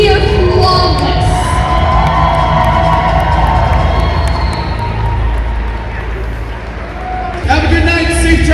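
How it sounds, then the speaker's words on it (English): A large crowd at the Calgary Comic & Entertainment Expo applauding and cheering a cosplayer, with loud sustained cheers, whoops and shouting that dip slightly and then surge again near the end. "Give a huge round of applause."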